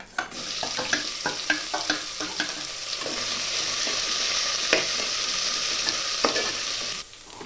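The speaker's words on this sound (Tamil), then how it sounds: "வெங்காயத்தை லைட்டாக வதக்கிட்டேன்" Onions sautéing in a pan for tomato rice, a steady close sizzle of frying with sharp clicks and scrapes of a spoon stirring through them, the hiss holding evenly throughout until it drops off near the end.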